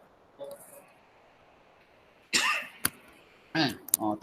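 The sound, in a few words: dry cough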